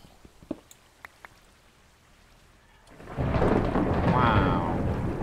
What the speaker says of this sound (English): absolutely cracking storm.